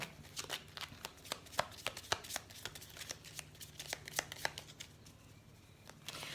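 Tarot cards are shuffled and drawn by hand, giving soft, irregular snaps and riffles close by at low volume over a faint background hum, with no talking.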